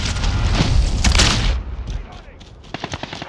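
A grenade blast and gunfire in the military shooter Call of Duty Modern Warfare, a loud booming burst with rumbling tail followed by sharp scattered shots and clicks, with voices calling out in the game.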